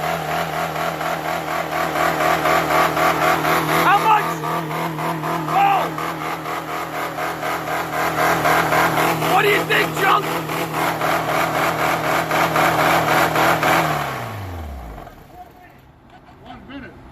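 A Honda Fit with a VTEC engine revs hard in neutral, a loud sustained wail that surges and holds before the motor dies and winds down, with people talking over it.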